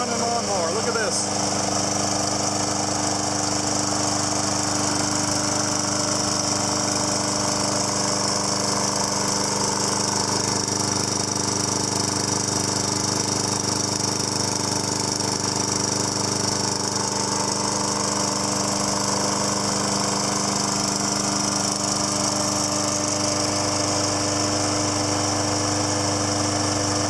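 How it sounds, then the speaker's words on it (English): A Sears Craftsman lawn mower with a Kohler Courage engine and 21-inch mulching blade runs steadily and smoothly close by, a constant droning hum with no pauses throughout. "Great running lawnmower."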